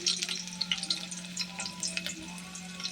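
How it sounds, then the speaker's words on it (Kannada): Mustard seeds, cumin and garlic tempering in hot oil for a curd dish, giving a close, steady crackling sizzle with rapid popping spatters throughout and no voices. "ಸಾಸಿವೆ, ಜೀರಿಗೆ, ಬೆಳ್ಳುಳ್ಳಿ ಹಾಕಿದ್ರೆ ಮೊಸರಿಗೆ ತುಂಬ ಚೆನ್ನಾಗಿರುತ್ತೆ ಫ್ಲೇವರ್"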